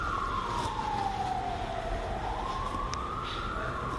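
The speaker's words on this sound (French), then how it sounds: "Tu entends les sirènes qui sont en train de parcourir dans les rues" Emergency vehicle sirens wail through city streets in Morocco, a single rising and falling tone sweeping slowly, distant and faint over a steady hum of urban background noise.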